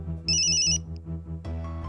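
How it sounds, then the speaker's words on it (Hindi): A telephone rings indoors in a Hindi TV drama scene, with a steady electronic ringtone pattern repeating in short bursts, loud and close, and no talking over it. "फोन।"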